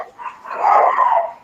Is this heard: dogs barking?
yes